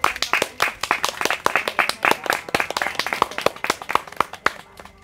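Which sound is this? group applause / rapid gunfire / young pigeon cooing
group applause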